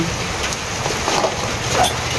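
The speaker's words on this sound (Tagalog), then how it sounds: "Pagdating namin dito, lumakas yung ulan." Heavy rain falls continuously in a broad steady hiss, close and fairly loud, with no talking over it.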